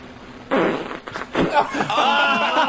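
A loud, drawn-out fart from a woman sitting with pudding on her rear, wet and sputtering over a couple of seconds, up close with faint laughter around it.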